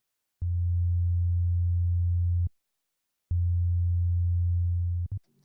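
Pure sine wave bass part playing alone: two sustained low, smooth tones of about two seconds each, separated by a short silence, with clean abrupt starts and stops and nothing else heard.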